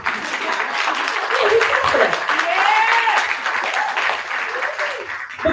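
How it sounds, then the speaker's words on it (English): Audience applause at a Black Women Run DC gathering, a steady crowd clapping with cheers and vocal whoops riding over it, while a few words are spoken near the end. "So, no, you clap for that."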